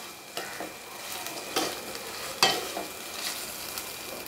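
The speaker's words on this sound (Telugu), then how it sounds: "ఆ రొయ్యలు కూడా బాగా నూనెలో వేగనివ్వాలి." Prawns fry in hot oil and are stirred in a pan, giving a steady close sizzle with a few louder scraping stirs spread through it.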